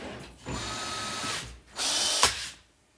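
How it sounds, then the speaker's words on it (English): A power drill runs in two bursts around a screw, each a steady whir lasting about a second with a short pause between, close and loud with no talking. "Look at me using power tools"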